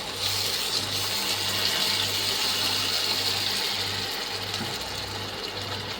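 Water poured into a pan of frying ginger and garlic paste for a Bengali fish curry, a steady close gushing pour with a low hiss of sizzling running through it.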